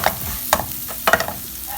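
Chopped onions frying in a hot pan for samosa filling, a low continuous sizzle with three or four sharp spoon scrapes as they are stirred, close and fairly loud, no speech.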